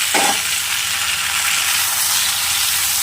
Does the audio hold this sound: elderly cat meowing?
no